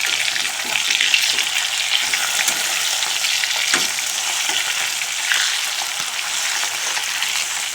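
Turmeric-and-salt-coated rohu fish pieces, just flipped, fry in hot oil in a wok with a dense, steady, close crackling sizzle, broken by small pops, with no voices.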